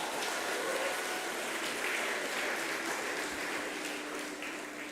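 Church congregation applauding after a student choir sings at a Sunday worship service, a steady broadband wash of clapping that holds evenly for the whole stretch and tapers slightly at the end.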